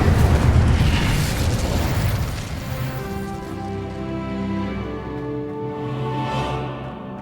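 An Incendio fire spell is cast in Hogwarts Legacy: a loud burst of fiery blast opens, then fades into a rumbling tail with tonal magical shimmer and game music beneath.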